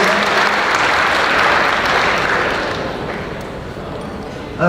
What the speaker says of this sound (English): I think we should all give a round of applause